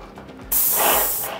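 A paint spray gun releases a sudden steady hiss of about a second while laying a test pattern on cardboard, loud and close after a quiet lead-in.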